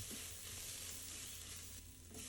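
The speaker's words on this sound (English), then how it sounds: "And stir that all up, get all those spices, flavors really going in there." Spices, including coriander and cumin, sizzle and fry in an Instant Pot while being stirred, a steady close crackling hiss with soft scraping of the spoon.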